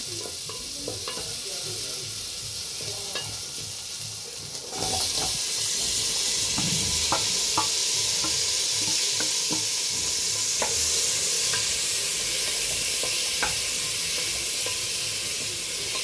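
Vegetables for pav bhaji sizzle and hiss steadily in a hot pan, with a spoon scraping and stirring through them in scattered clicks; the frying grows louder partway through and stays close and continuous.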